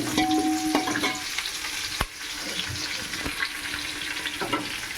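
Whole spices, onions and mutton frying in a pot for biryani while being stirred: steady close sizzle with scraping spoon strokes and a sharp clank near the middle, no talking.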